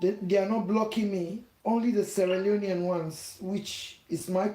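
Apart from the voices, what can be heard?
No distinct noise like a dog, phone or traffic.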